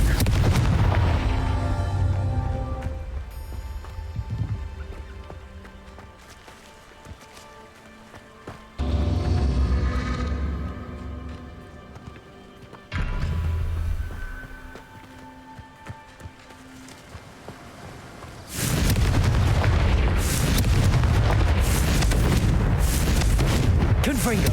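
Spell blasts boom out in a magic-themed action game, with heavy bursts that break up stretches of quieter movement and footsteps. A voice talks over parts of it.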